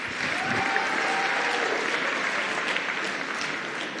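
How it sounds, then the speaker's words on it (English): Sustained audience applause after a hip hop dance performance at a closing ceremony, a dense, steady wash of many hands clapping at moderate distance. "another round of applause to Hip Hop Dance Club for that amazing performance"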